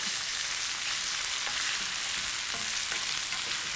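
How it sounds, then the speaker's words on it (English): Lemony pieces of food are tossed in a frying pan, sending out a steady, close sizzle with occasional scraping stir sounds and light pops over the continuous hiss, and no one speaks. "Now we're just going to sort of toss these around a little bit."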